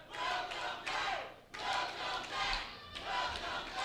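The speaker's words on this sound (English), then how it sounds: "Crowd welcoming back the Messiah" A wrestling crowd at an NWA Wildside Christmas Chaos event roars and cheers for David Young's return, loud sustained waves of shouting that swell and fall in several surges.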